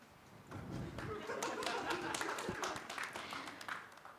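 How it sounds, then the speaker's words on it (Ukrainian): A theatre audience at a stand-up comedy show breaks into steady applause, a dense wash of many hands clapping at moderate distance, with a few chuckles mixed in. "Поаплодуйте, кого замахали мамкіни коментатори"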